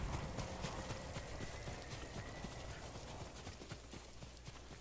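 Rapid hoofbeats of several horses galloping in the video game Ghost of Tsushima, a steady drumming clatter that stays loud and close throughout with no voices.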